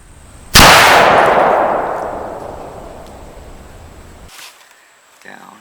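A single loud gunshot from a 65-year-old Remington 740 hunting rifle, a sharp close crack with a long ringing decay, followed by a faint distant thump after the echo dies away.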